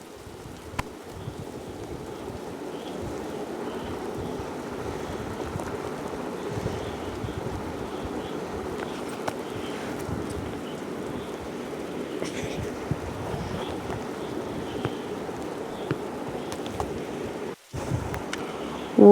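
Rain falls steadily in the forest survival video game 99 Nights in the Forest, a dense, even hiss that runs almost the whole time, briefly dropping out near the end.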